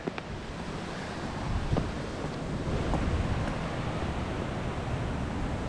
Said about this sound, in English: What a roar from the river here.